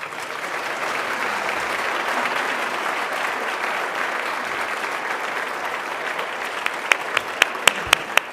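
Audience applause for panel guests at the Toronto International Film Festival's Bell Lightbox, a sustained wash of clapping from a crowd, with a few sharp, close individual claps standing out near the end.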